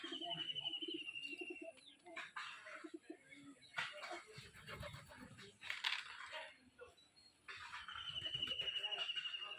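Pigeons coo softly near large pigeon coops in a rural household yard, a low repeated murmur beneath steady chirping birds and scattered background noise.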